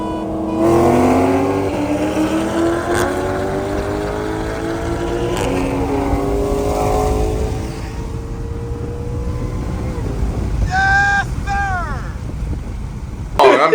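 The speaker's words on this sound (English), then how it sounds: "we can show them a little snippet of a stage 2 Supra versus a 500 all day long" A stage 2 Toyota Supra races another car, engines revving and climbing through gears loudly and close for several seconds, with a later burst of high-pitched whine and shifting.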